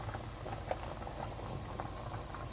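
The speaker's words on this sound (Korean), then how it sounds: "그러면 이제 불을 켜서 뚜껑을 닫고 끓일게요" Braised chicken (dakjjim) with potatoes and carrots bubbling in a covered pot, a steady low rumbling boil with soft scattered patters and pops throughout, close and even.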